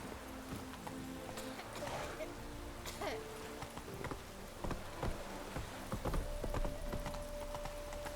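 Roach, a horse in The Witcher 3, trots with steady clip-clop hoofbeats amid a busy game soundscape of background voices, buzzing insects and other ambient noise.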